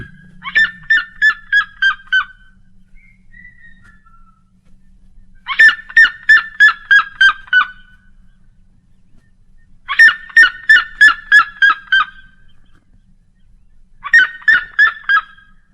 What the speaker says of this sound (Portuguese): ouça distintamente a gargalhada da siriema em algum campo, talvez muito ao longe